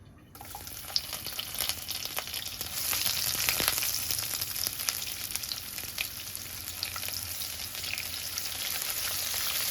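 Chopped onions frying in mustard oil for a chicken and bottle gourd curry, a continuous bright sizzle that swells after a few seconds, with crackles and light stirring clicks, close and steady, with no talking.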